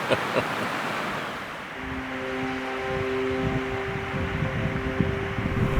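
River rapids beside an Idaho campsite rush in a steady, broadband wash, with a faint tonal hum entering partway through.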